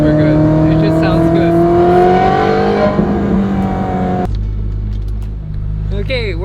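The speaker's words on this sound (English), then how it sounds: "Naturally aspirated cars is you don't need to go super fast to sound super good." A naturally aspirated Ferrari 458 engine revs loudly with rising, sweeping tones, then cuts to a lower steady drone before a brief sharp rev near the end.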